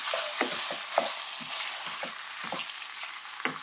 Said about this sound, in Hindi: और इसके साथ ये मैं चिकन भी डाल रही हूँ, और इसको 1 से 2 मिनट तक भून लेंगे।